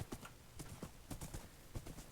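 Horse hooves clip-clop in a video game, a steady run of close, crisp hoofbeats in uneven pairs, heard alone without talk.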